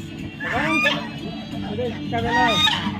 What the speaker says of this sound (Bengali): খুব রাগি রাজহাঁস